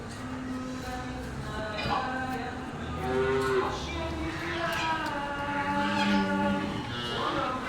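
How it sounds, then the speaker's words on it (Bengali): Imported calves mooing inside a calf shed on a cattle farm, several drawn-out bellows rising and overlapping across the clip, fairly close, with people talking in the background. "এটা এই হচ্ছে বাছুরি শেড বাসুরগুলোকে ওরা এখানে রাখে সবগুলো বিদেশি বাছুর"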